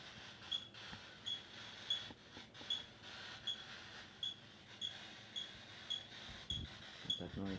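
An electromagnetic meter beeps at a steady pace, a high electronic tone roughly once a second, over a quiet room with light background rustling and a brief noise near the end.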